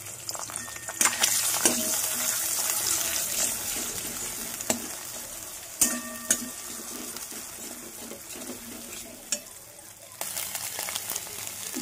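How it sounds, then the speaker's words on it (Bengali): Beaten egg with black pepper and salt scrambling in a wok, a continuous loud sizzle broken by sharp scraping and tapping clicks of a spatula stirring the egg, with no talking. "ফাটানো ডিমটার মধ্যে এবার একটু ব্ল্যাক পেপার আর একটুখানি নুন দিয়ে আমি এটাকে একটু ঝুরঝুর করে ভাজা করে নেব।"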